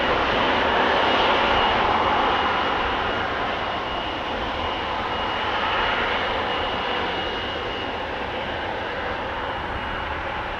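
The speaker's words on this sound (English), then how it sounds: "a line cutter taking off further down the runway" Boeing 777-200 airliner, about 20 years old, taking off farther down the runway at Amsterdam Schiphol Airport, a steady broad jet-engine roar at moderate distance that holds throughout with slight swells and fades, no voices.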